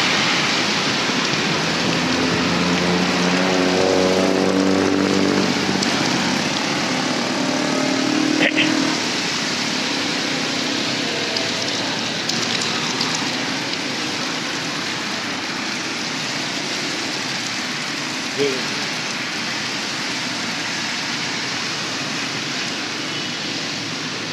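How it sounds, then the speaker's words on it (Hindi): Heavy rain pours steadily over a Karachi street, a constant broadband hiss, while a motorcycle engine rises and passes nearby early on before the downpour carries on alone. "यहाँ बारिश एक दफ़ा दोबारा से शुरू हो गई है।"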